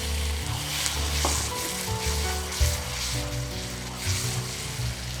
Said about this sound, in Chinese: 加适量青红椒同炒， 倒入调味汁